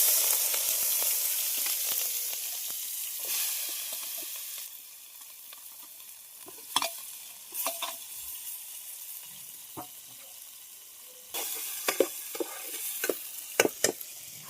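Onion, green chili and tomato fry in oil in a pan for chicken curry, a steady close sizzle with occasional sharp crackles and stirring scrapes throughout.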